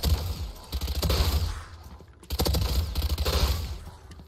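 A Spectre submachine gun in Valorant fires rapid continuous bursts while the player sprints, a dense, clattering stream of shots broken by a brief pause midway, loud and close with no talking.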